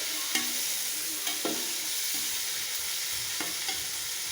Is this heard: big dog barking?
no